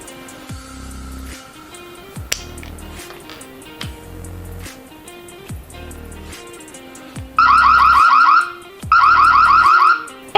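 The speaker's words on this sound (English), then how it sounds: "If the body stays separated from the plate, the anti-theft alarm sounds." A smart doorbell's anti-theft alarm shrieks in two loud bursts of rapid warbling electronic tones near the end, following quieter chirps and clicks.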